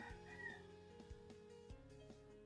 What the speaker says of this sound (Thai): อาจจะได้ยินเสียงไก่นิดนึงเนาะ